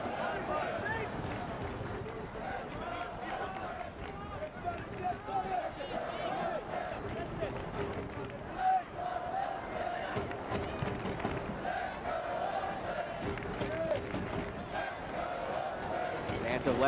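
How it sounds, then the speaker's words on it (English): Soccer crowd at an Oakland Roots SC match against LA Galaxy II chanting "let's go Oakland," a steady, dense roar of many voices with rhythmic swells sustained throughout, while a commentator talks over it. "So let's go Oakland ring up from the crowd."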